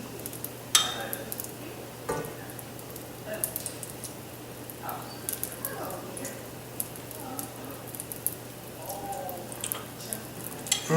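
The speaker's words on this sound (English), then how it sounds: "Once that butter starts popping, we're gonna put that steak on there." Clarified butter heats in a hot cast iron skillet for a blackened porterhouse, giving a low, steady sizzle with scattered faint pops and occasional clinks of utensils against the pan.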